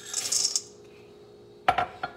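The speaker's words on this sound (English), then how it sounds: "So I'm going to add the chocolate chips." Chocolate chips poured into cookie dough, a brief clattering rattle of small hard pieces, then a second short burst of clinks and rustles a moment later, close and fairly quiet.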